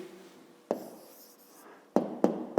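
Pen writing an answer by hand on paper, with soft scratchy strokes and a few sharp taps of the pen. It is quiet and close, with no voices.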